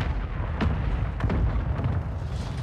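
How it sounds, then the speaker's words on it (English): Mortar strike explosions in a Call of Duty match on Ashika Island, a few heavy booming impacts thudding over a dense, rumbling battlefield din, fairly close and loud throughout. "Hostile mortar strike near your position"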